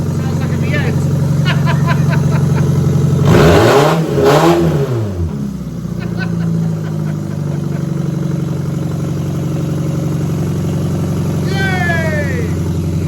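A rebuilt car engine with no exhaust connected runs with a loud, rough, V8-like roar throughout, surging in a brief rev partway through, while people talk over it.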